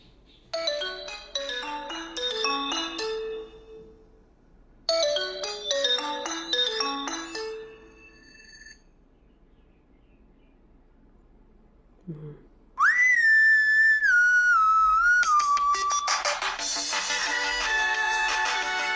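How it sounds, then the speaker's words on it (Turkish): A polyphonic Nokia C6-01 ringtone plays a bright melodic tune twice with a pause, followed by a rising synthetic tone and a dense, loud electronic jingle. "Telefonun kendi zil seslerine bakalım."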